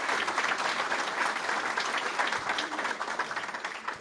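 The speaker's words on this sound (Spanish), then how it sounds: "así que un aplauso para Alfredo." Audience applause at a book launch, a dense, even wash of many hands clapping together, sustained and moderately loud throughout without a break.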